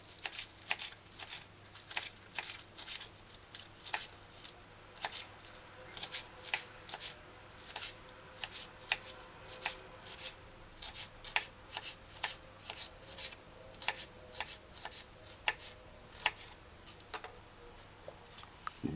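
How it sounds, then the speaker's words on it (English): A knife finely dices scallion on a cutting board, a quick run of crisp regular taps that continue steadily, close and fairly quiet with no talking. "Now dice scallion fine."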